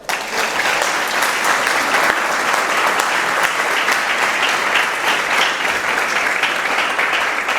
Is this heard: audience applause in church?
yes